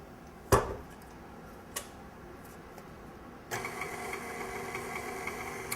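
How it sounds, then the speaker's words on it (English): An electric mixer on low speed combines softened butter and flour for scones: a sharp click, a quiet pause, then a steady, low motor whir starts partway through and runs to the end. "I'm just going to mix this together on low speed until it's all combined"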